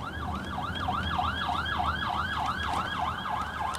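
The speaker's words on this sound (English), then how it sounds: "Ambulance. There's an ambulance." A wailing siren rises and falls in a steady, fast repeating cycle, loud and continuous over low traffic rumble, with no one talking.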